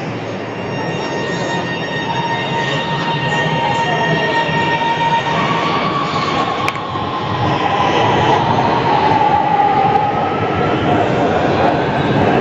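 A Lahore Orange Line metro train runs past nearby with a loud steady rumble, humming motor tones and squealing wheels throughout, with faint talk underneath.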